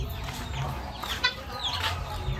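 A rooster of an unusual new breed kept in a village, clucking softly in short calls over a steady outdoor background hum, close but not loud.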